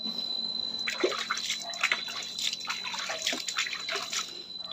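A little water poured into animal feed, giving close, splashy trickles and drips in irregular bursts over a quiet background.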